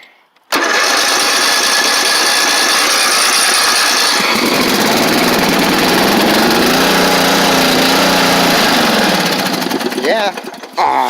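A small tractor engine cranks and catches on a cold start with choke on, then runs loud and rough at high revs, settling into a steady clatter before stalling briefly.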